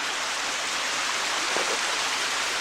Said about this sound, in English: Little baby waterfall.